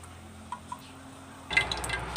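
Stewed pork belly and pork hip are lifted out of a pot of clear broth, with a few soft drips followed by a wetter burst of sloshing and dripping liquid, close and quiet.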